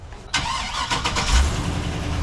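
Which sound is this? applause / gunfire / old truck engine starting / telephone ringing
old truck engine starting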